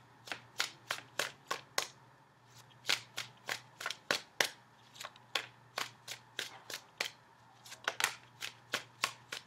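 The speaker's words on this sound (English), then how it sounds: "So I'm going to pull your outcome card." Tarot cards are shuffled and handled in sharp, rapid riffling bursts, close and crisp, with brief pauses between flurries and a low steady hum underneath.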